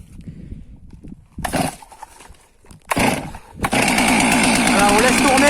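Stihl MS 362 chainsaw pull-started twice with brief bursts, then catching and running at a loud steady idle close by, with a person talking.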